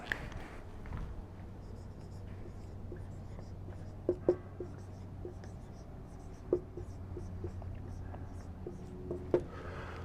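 A pen writes by hand in a quiet room, making soft continuous scratching strokes with a few sharper taps where the tip lifts and lands, close and faint.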